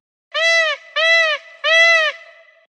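Three loud, drawn-out honking calls from a peacock ring out in a steady sequence, each a brassy wail with brief pauses between.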